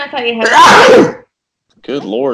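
A single loud, close sneeze from a person whose oak pollen allergy is acting up, bursting out between bits of conversation, with speech before and after it.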